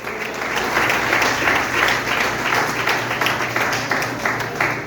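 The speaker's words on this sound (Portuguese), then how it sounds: "Pode aplaudir a terra." A church congregation applauding during a family worship service, loud dense clapping that rolls on steadily for several seconds from a large crowd.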